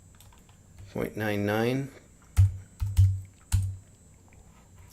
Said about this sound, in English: And let's type in